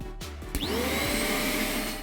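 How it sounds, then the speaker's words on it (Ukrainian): A Xiaomi Deerma DX115C vacuum cleaner starts up after a few clicks, and its motor quickly spins up to a loud, steady full-power whine with an airy rush. "Відразу після запуску пилососа відчувається його потужність"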